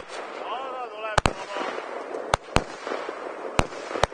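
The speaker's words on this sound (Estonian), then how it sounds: "Ja kohe tuleb paugud järgi." New Year fireworks bang outdoors in sharp, loud, separate cracks, about six over a few seconds, with a voice talking and a brief whistle between them.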